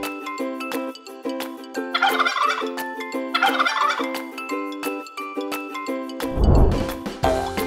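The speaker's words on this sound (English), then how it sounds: "Turkeys are known for their distinctive voices." A turkey gobbles loudly and repeatedly, its rapid warbling calls coming in several bursts, with a fluttering, rattling burst near the end.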